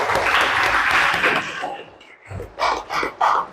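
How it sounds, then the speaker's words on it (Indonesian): A classroom audience applauds at a teacher-training session on computer networking. The clapping is dense and fairly close, lasts about a second and a half, then fades as a voice starts speaking. "Tepuk tangan dulu dong."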